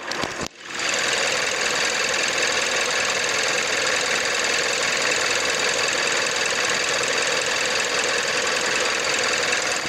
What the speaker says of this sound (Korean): 엔진룸 개방해봤고 엔진 소리까지 들어보도록 하겠습니다.